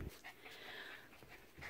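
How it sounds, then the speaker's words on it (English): Norwegian Elkhound puppy panting close by, a steady run of quick breathy huffs lasting under two seconds with no one talking. "He's a Norwegian Elkhound."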